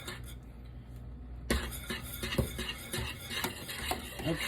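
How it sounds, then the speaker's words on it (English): A metal whisk scrapes and clanks against a metal pan of thick banana pudding, with rapid irregular clinks and scraping that grow louder partway through. "it makes a lot of noise because I'm using this metal whisk on this metal pan"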